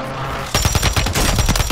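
Rapid automatic gunfire in Fortnite, a quick string of sharp, loud, close shots that starts abruptly after a brief quiet moment and repeats in an even rhythm.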